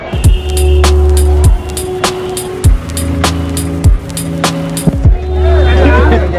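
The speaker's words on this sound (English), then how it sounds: "You know, your average traffic jam with a cow in the middle." Street traffic jam in Haridwar, India, with a steady low engine hum, repeated sharp horn blasts at intervals, and a voice talking over the din.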